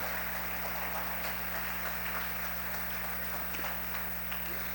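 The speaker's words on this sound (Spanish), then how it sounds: "¿Cuántos pueden darle un fuerte aplauso a Jesús?" Church congregation at a Sunday service in Mexico applauding for Jesus, steady dense clapping spread across the room, fairly faint and even throughout with a low constant hum underneath.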